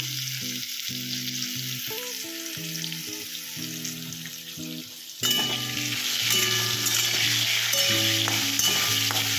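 Potatoes with turmeric frying in a pan give a steady sizzle under sustained melodic music, and the frying grows louder and brighter partway through as stirring picks up.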